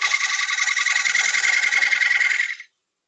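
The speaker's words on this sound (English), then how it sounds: "Diamond profile scraper." A diamond profile scraper works a wooden rim in one steady, close rasping pass that stops abruptly after about two and a half seconds.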